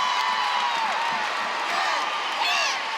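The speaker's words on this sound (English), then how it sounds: "the crowd goes wild" A gymnastics meet crowd roars and cheers wildly after a final tumbling pass between NC State and Clemson, a sustained wash of voices with whoops and shrieks rising near the end.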